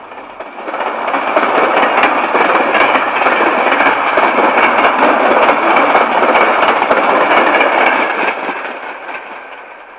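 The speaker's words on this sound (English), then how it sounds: "a Penn Central coal train returning empty from the Dow Chemical Power Plant at Midland" A long Penn Central coal train, running empty, rumbles past up close with steady clickety-clack of wheels over rail joints, swelling and then easing as the cars roll by.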